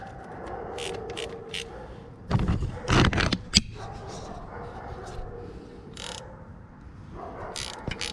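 Ratchet tightening bolts during an oil change on a 2022 Honda Goldwing DCT motorcycle, clicking in short bursts with a louder cluster in the middle, amid quiet workshop handling sounds.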